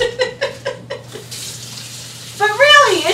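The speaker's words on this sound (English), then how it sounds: "let me go wash my hands and rinse off my packet" Water runs from a tap as hands and a corned beef seasoning packet are rinsed, a steady close splash rising after a few short knocks at the start.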